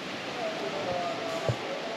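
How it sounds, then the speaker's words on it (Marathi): Sea waves wash onto a beach on the Maharashtra coast, a steady, soft broadband roar with no distinct breaks, heard at moderate distance. "वाव, समुद्रांच्या लाटांचा जो आवाज येतो ना"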